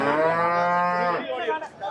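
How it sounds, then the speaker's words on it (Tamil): A large dairy cow bellows one long, loud, close moo at a cattle market in Chinnapuram, Erode, the call fading into a rougher tail at the end. "நல்ல பெரும் மாடுங்க"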